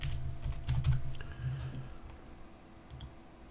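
Password typed on a computer keyboard, a short run of soft rapid key clicks over a steady low room hum, close and moderately quiet.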